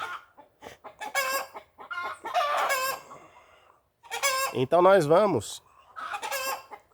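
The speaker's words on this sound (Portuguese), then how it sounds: "O galinheiro tá apavorado com o gavião aqui." Frightened chickens in a coop cluck and squawk loudly in bursts, alarmed by a hawk nearby, with one rising and falling crow-like cry, interspersed with brief speech.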